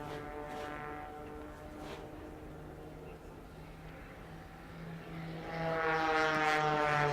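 A small aerobatic propeller airplane performs at an air show, its engine droning steadily at a distance and swelling louder near the end as it dives back toward the crowd, with an announcer talking over it.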